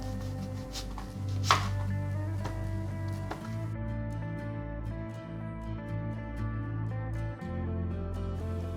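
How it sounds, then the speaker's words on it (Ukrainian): An onion is cut with a knife on a board while preparing borscht, with a few crisp, separate chopping taps over steady background music. "Для цього ми нарізаємо цибулю."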